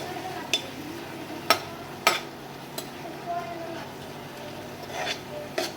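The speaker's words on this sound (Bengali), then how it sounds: "লঙ্কার গুঁড়ো দিলাম, ধনের গুঁড়ো, জিরার গুঁড়ো দিয়ে ভালো করে আমি নেড়ে চেড়ে নেব।" A spoon stirs chili, coriander and cumin powder in a frying pan, with sharp scrapes and clinks against the metal spaced a second or so apart over a faint sizzle, close by.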